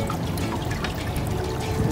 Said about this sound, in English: Check out this amazing water feature.